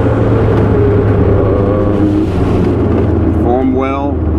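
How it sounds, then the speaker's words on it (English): A 1984 Corvette with the 4+3 manual gearbox accelerates on the road, its engine note a steady, loud drone with rising harmonics near the end, heard from inside the car with someone speaking over it. "As you can see, it accelerates without problem."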